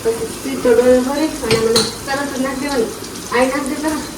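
A ladle stirs and scrapes inside a metal cooking pot in a home kitchen, with clinking pot sounds under near, ongoing voices.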